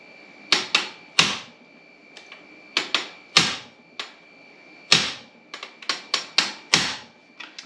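Sharp metallic hammer strikes bash a metal pin in irregular bursts of two or three, each ringing briefly, close and loud, with quiet pauses between groups.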